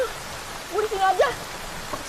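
Steady rain falls in a village as a continuous soft hiss, with a voice speaking briefly over it.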